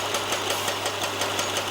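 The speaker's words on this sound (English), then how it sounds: "building drills and pile drivers," Construction noise from building drills and pile drivers: a steady mechanical hum with a rapid, even pounding pulse running through it, moderately loud and with no voices.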